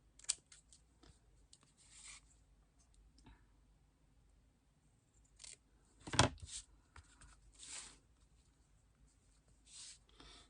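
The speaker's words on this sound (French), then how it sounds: "je vais pouvoir venir découper le long de ma carte des petits morceaux qui dépassent" Scissors snip paper along the edge of a scrapbooking card, a quiet run of small crisp cuts and rustles with one louder clip partway through, close by and with no voices.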